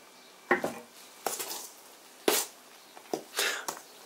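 Liquid is stirred into a dry vegan meatloaf mixture of wheat protein in a bowl, giving irregular wet scraping and clattering strokes of a spoon against the bowl, close and moderately loud with short pauses between.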